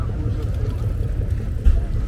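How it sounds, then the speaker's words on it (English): A party barge motoring past in Split harbour gives a steady low engine rumble with a brief louder swell near the end, close by. "Here comes the party barge."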